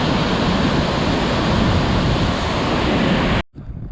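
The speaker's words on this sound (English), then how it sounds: "The wind's quite strong from that falling water." Loud, steady roar of a waterfall with strong wind gusting at its base near a glacier and snow-capped mountains, constant broadband rush filling the scene before cutting off abruptly near the end.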